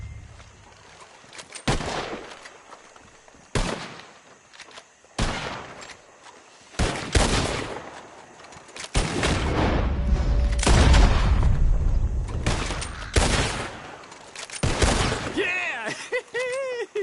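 Gunfire from a PS4 shooting-contest game: loud bursts of shots in bunches separated by short pauses, with one sustained volley in the middle, and voices talking between the bursts.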